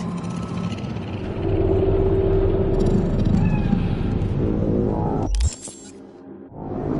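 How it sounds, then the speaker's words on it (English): A cat in the Cyberpunk 2077 game world of Night City lets out a long, drawn meow over a rumbling city ambience, followed by an abrupt burst of game noise and a quieter stretch. "It's a cat like any other."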